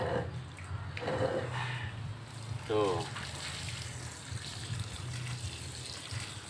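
Water splashes and trickles softly as a kimeng bonsai planted on coral rock in a pot is watered, quiet and close, with someone talking over the pouring.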